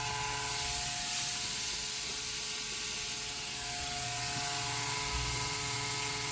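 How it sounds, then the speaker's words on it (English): A PC fan inside a newly powered-on gaming rig rubs against a cable, giving a continuous close, loud ratcheting whir and buzz with a steady mechanical clicking texture throughout. "Sounds like the fan is touching the cable."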